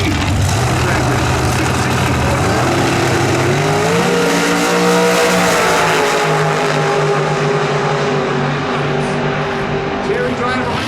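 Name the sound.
drag race cars launching and accelerating at Sonoma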